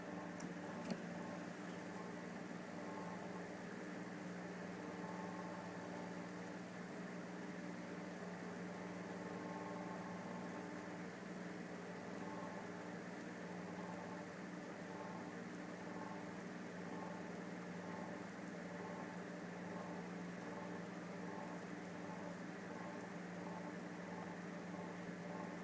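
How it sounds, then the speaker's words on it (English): A high-draw electric motor powered by a homemade solid-state electrolyte cell runs with a steady, faint whine and hum, unchanging throughout and without any talk. "A ludicrously high draw motor for a simple cell."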